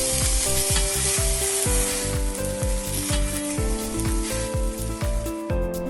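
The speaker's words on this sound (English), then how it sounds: "Make that cast iron really hot before you sear it. You only need 30 seconds of searing each side." Steak sears in a very hot cast iron pan, a loud, close, continuous sizzle with crackling pops throughout and no talking.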